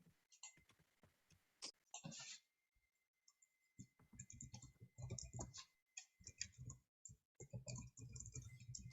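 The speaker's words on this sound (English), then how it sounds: "I hear someone typing." Computer keyboard typing, heard as clusters of quick, soft key clicks in irregular bursts with pauses, fairly close and alone without talk.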